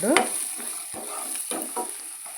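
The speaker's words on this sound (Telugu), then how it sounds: "ఉల్లిపాయ ముక్కలు ఫ్రై అయిపోయినాయండి." Onion pieces fry in a pan for a chicken curry, giving a continuous close sizzle broken by a few stirring scrapes and clinks, no speech.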